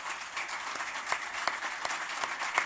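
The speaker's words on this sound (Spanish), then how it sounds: "yo les pido que le den un aplauso a todos ellos" An audience applauds health staff at a televised government event, a moderate, fairly distant patter of clapping with a few sharper individual claps standing out.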